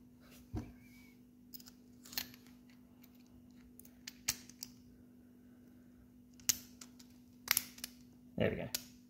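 Metallic clicks and taps from a .22 Magnum rifle bolt being put back together, in scattered sharp bursts against a steady low hum, with a heavier cluster of clatter near the end.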